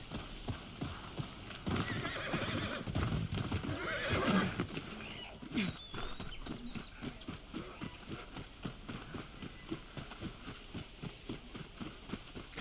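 Horse hooves clip-clop in a steady rhythm through the video game Ghost of Yotei, with a loud whinny near the start and the hoofbeats continuing alone to the end.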